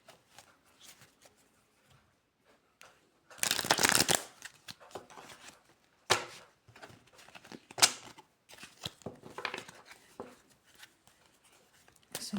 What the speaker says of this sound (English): So we'll shuffle a couple times.